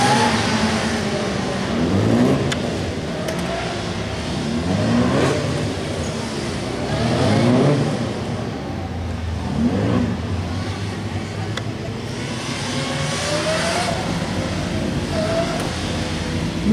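A motorcycle engine revs and dips in repeated cycles during a motogymkhana run, rising and falling through the turns at a moderate distance, with occasional voices in the background.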